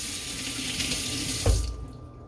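Tap water runs steadily into a kitchen sink during washing up while making a green smoothie, a broad hiss that swells briefly with a splash before cutting off and fading to quiet.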